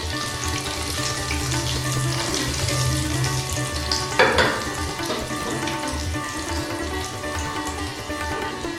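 Eight pieces of a medium potato frying in hot oil over a low flame for a Bengali jackfruit and prawn curry, a steady close sizzle with brief stirring clatter midway and no talk.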